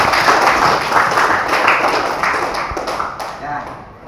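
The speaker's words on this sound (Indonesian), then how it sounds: "beri aplaus dulu kepada kita semua kelompok" Classroom applause for student groups in a high school lesson: a sustained burst of clapping from many hands, steady and fairly loud, tapering off toward the end with some voices mixed in.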